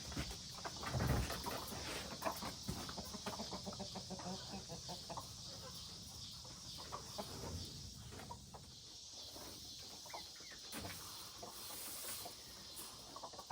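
Hens in a backyard chicken run cluck and murmur continuously at moderate distance, with scattered louder squawks and rustling over a steady background hiss.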